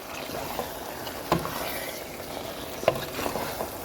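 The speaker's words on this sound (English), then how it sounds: "Stir them up." Meat being stirred in a cooking pot: a soft continuous frying hiss with two distinct scraping strokes of the spoon against the pot, fairly close, and no voices.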